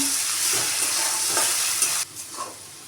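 Potato pieces fry in hot oil with a close, crackling sizzle and some stirring scrapes, then the sizzle cuts off abruptly, leaving a few faint clinks.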